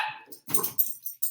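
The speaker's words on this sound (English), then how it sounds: "Sorry, my dogs are being weird." Pet dogs at home giving several sharp, close barks and yips in quick, uneven bursts.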